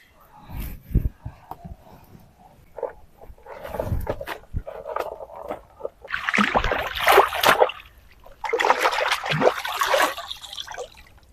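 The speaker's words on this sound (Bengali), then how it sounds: "এবার সোজা চলে যাব পুকুর ঘাটে ভালো করে ধুয়ে পরিষ্কার করবো" Water splashes and sloshes at a pond's bathing steps during washing, in irregular close bursts that grow louder and fuller toward the end, with faint background noises between them.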